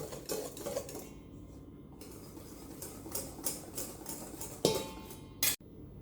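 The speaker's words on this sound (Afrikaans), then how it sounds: "En dan klits ek dit net gou deur met die draadklitser." Wire whisk stirring salt through flour in a bowl for soft Christmas buns, a run of quick scraping clinks with a louder tap near the end, close and alone.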